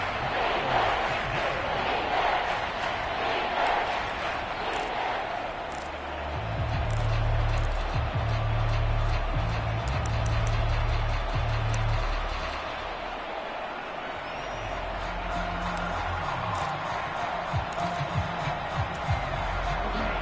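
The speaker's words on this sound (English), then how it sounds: "the crowd getting into it as we come up on a big 3rd down" A stadium crowd in a PS4 football video game roars steadily through the whole stretch, swelling and easing, with a low rumble beneath the broad cheering noise.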